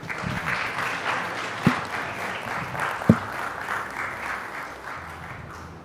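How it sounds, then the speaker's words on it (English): A conference audience at an economics conclave applauds continuously, a steady crowd of clapping hands at moderate distance, with a couple of sharper thumps standing out along the way. "once again, big round of applause"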